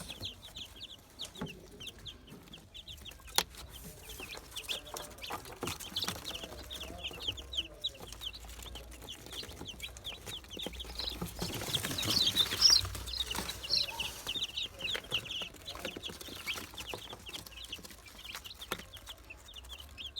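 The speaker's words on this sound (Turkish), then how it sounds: "Evimizdeki dövüşçü horozun civcivleri." Many small fighting-rooster chicks peep continuously in a brooder box, high and thin, with a soft background hum and occasional rustling, close by.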